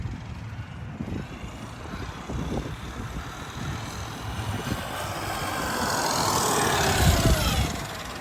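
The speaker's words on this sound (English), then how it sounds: "So let's drive this XRT Ultimate." A Traxxas XRT Ultimate RC monster truck drives outdoors at dusk, its electric motor giving a steady whirring drone with rough, gravelly rumble that swells and grows louder toward the end, no talking.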